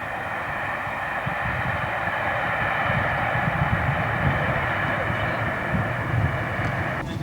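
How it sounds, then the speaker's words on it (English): A train rushes past at about 70 miles an hour near canal locks, a steady rumbling roar heard from a distance that holds throughout, with a faint voice underneath. "That's the train whipping through at about 70 miles an hour."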